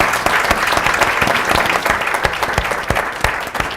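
An audience at a Caribbean business forum gives a panel a round of applause, with dense, steady clapping from a crowd lasting several seconds.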